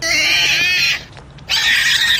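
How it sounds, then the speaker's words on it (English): A pig gives two loud, close squealing oinks separated by a short pause, alone without any speech. "This is pig."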